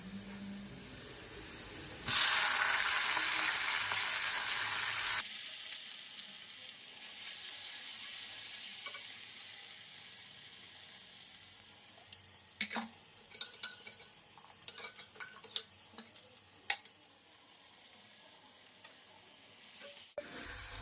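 Tomatoes added to fried onions in a home kitchen pan give a loud burst of sizzling and hissing, then settle into a quiet simmer with occasional stirring clinks and scrapes.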